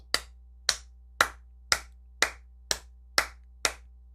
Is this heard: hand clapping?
yes